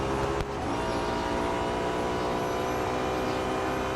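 Race car engines in the mobile game Real Racing 3 drone steadily through a slipstream battle on the final lap, a continuous loud engine roar with no talk over it.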